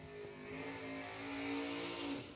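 Drag racing engines at a strip event, an injected Willys lined up against a dragster, hold a loud, steady, harmonic-rich roar that swells slightly and stays close and continuous throughout.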